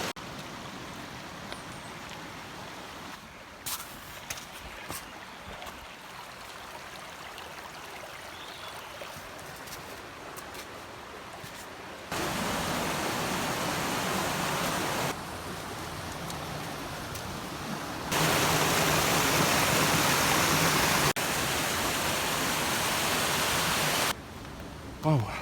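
A river flowing over its bed, a steady broadband rush whose loudness jumps in abrupt steps, moving closer and then farther, with no talk over it.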